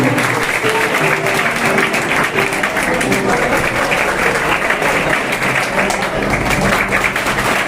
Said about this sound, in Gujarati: તાળીઓથી વધાવીશું.